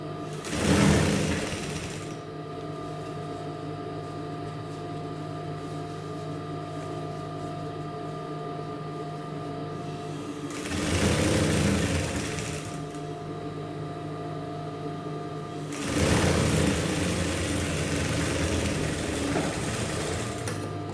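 A sewing machine stitching trouser legs runs in three bursts, a rapid close mechanical whir at the start, middle and end, with a quieter steady hum between bursts.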